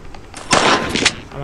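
Gunshots ring out in the horror video game Granny Chapter 2, a loud close burst of firing after a quiet lead-in, with a second sharp report near the end and no speech over it.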